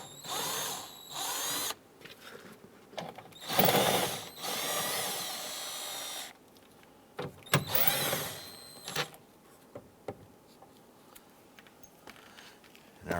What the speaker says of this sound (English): We're going to use our 6mm socket to go ahead and remove the 4 speaker screws.